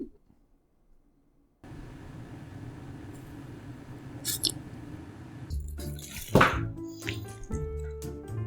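Water is poured into a cup while coffee is being prepared, a close trickling splash that builds to a louder gush near the end after a quiet start.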